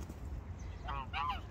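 Geese honk in a short burst of nasal calls near the end, over steady low outdoor rumble.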